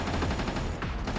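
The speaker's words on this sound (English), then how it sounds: "Let's go ahead and use the little laser beam that we've got." A laser cannon fires in the Codename: Ocean Keeper video game, a dense, rapid burst of crackling shots repeating in quick succession, loud and continuous over about a second.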